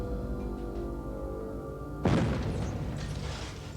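A sudden explosion erupts partway through a stage magic show, a sharp broadband burst that rumbles and slowly decays, following a few seconds of steady low background hum.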